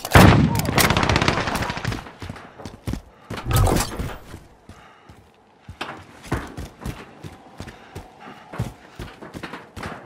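FAMAS burst fire in the video game Modern Warfare: loud clustered bursts of shots at the start, then scattered quieter shots and distant gunfire rattling on through the rest.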